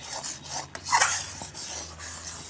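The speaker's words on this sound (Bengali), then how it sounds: "সব সময় নাড়তে হবে, নাড়তে নাড়তে দেখবেন পুরো দানা দানা হয়ে গেছে" A spoon scrapes and stirs egg and carrot halwa in a pan, giving close, rasping strokes with a brief louder scrape in the middle and no voices.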